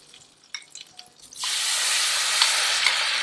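Ground thuthuvalai (climbing brinjal) chutney hits a hot tempering of mustard seeds and curry leaves, a few soft clinks then a sudden loud, steady sizzle that keeps hissing close up.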